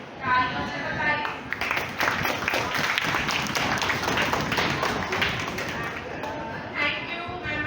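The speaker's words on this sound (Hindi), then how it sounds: "तालियों से बताइए." Students and guests at a middle school Urdu event clap together in a dense, steady patter that swells after a brief start and tapers off toward the end.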